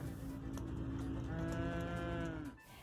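A single long, low moo from a cow at a New Brunswick farm's open farm day, rising and holding before fading, fairly close and clear over faint background noise.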